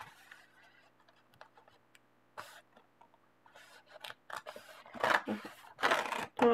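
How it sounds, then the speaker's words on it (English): A perforated page torn out of a coloring book: quiet rustling at first, then a series of sharp, close papery rips growing louder toward the end. "it's perforated here. Suppose I'll have to rip it"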